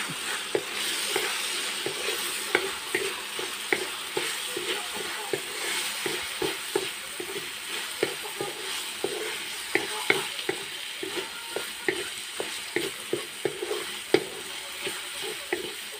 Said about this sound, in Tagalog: Ayan, sahugan na natin sa ating corned beef, guys, kasi medyo luto na yung ating sitaw para makalasa na.